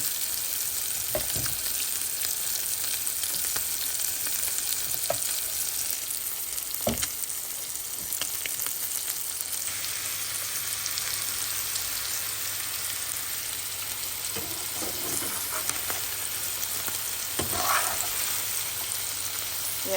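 Fish frying in hot oil, a steady close sizzle throughout with occasional scrapes and clinks as the pieces are stirred.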